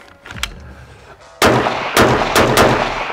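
A rifle fires a bullet with a dented neck and scraped copper jacket, giving several loud, close, sharp reports in quick succession, each with a booming tail over steady background noise.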